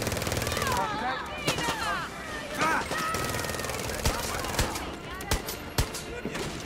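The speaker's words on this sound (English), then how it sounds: "Oh, that's a turret." Turret machine gun in the video game Far Cry 6 fires steady bursts of rapid shots, loud and close, with sharp cracks standing out over the continuous gunfire while game sounds and a voice mix in underneath.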